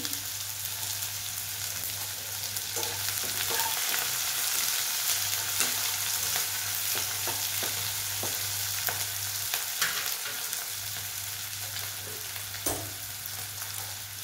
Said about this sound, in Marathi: कांदा थोडा फ्राय झाला की त्यात आपण हळद टाकूया